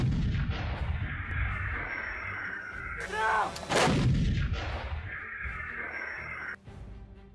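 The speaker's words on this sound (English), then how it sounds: "of launching both mortar bombs and artillery shells, offering versatility on the battlefield" A 120mm Floks self-propelled gun fires artillery shells outdoors, sending two heavy, booming blasts a moment apart, each followed by a long rumbling echo over a steady background hum.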